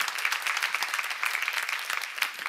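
A church congregation applauds during a seminar, a brief steady burst of many hands clapping together, fairly distant and even, with no voices over it.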